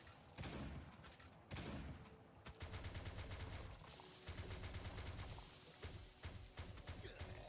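Repeated shotgun blasts from the video game Last Day on Earth: Survival, loud and close, firing in quick irregular bursts with heavy thumping impacts and brief gaps between volleys.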